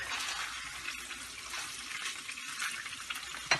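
Chicken pieces for Thai red curry sizzling steadily in a pan, a soft constant hiss with a brief clatter near the end.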